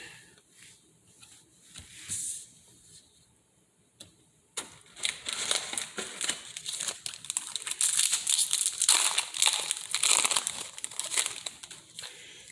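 A Zendikar Rising booster pack's foil wrapper is torn and crinkled open up close, starting with a few sparse crackles and then building into sustained, dense rustling and crumpling that grows louder toward the end.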